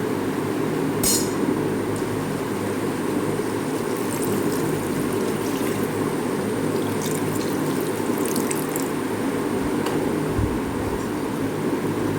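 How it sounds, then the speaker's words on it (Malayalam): Plain water poured into a Kerala-style beef curry, a steady close stream running for several seconds with faint clinks from the vessel, no one speaking. "ഞാനിപ്പോൾ ഇവിടെ വെള്ളമാണ് ചേർക്കുന്നത്,"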